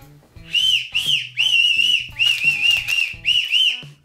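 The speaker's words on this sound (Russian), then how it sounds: "И тут еще свисток." A shrill toy whistle is blown in about five quick, warbling blasts with brief gaps, close and loud.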